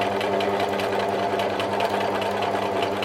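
A sewing machine does free-motion embroidery on quilt fabric, producing a loud, fast, steady mechanical whirr and needle rattle close by with no speech.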